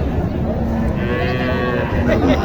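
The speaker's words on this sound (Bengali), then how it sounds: "খুবই চমৎকার একটি গরু" A cow lets out a long, low moo close by at a cattle market, heard over a busy background of murmuring voices.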